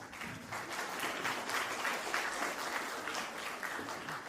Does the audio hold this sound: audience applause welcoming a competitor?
yes